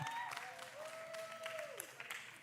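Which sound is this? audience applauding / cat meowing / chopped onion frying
audience applauding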